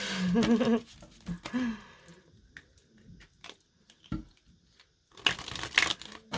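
Tarot cards are shuffled by hand in quick crisp bursts, one flurry at the start, another soon after and a final one near the end, with quiet soft handling in between.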